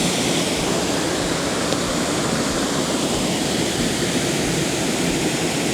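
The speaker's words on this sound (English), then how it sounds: "There's a bunch of cascading waterfalls." Cascading waterfalls at 13 Falls in New Hampshire's White Mountains roar in a loud, constant, broadband rush of falling water, close and unbroken, with no talk.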